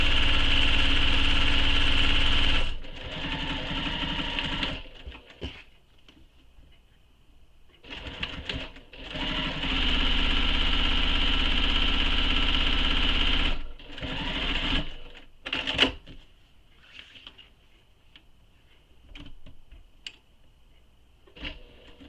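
A sewing machine topstitches the long edges of a satchel, running in long steady whirring bursts separated by short pauses and softer handling noises, loud and close with no voices.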